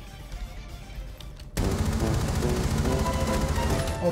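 Rainbow Six Siege gunfire starts abruptly after a quieter stretch, then becomes a loud, sustained stream of rapid automatic shots that continues to the end.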